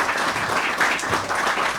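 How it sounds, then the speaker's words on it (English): A comedy club audience claps and cheers loudly and continuously for a comedian taking the stage, a dense, steady wash of applause with no clear voice above it. "Keep it clapping, man."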